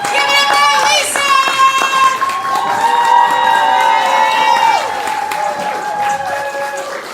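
An audience at a poetry slam applauds a poet with loud, sustained clapping and cheering that fades slightly toward the end, with voices shouting through the crowd.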